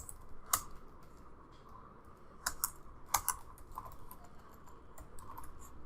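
Fingers tap out a name on a computer keyboard while setting up a Windows web server, a brisk run of close key clicks in short bursts over a faint steady hum, with no speech.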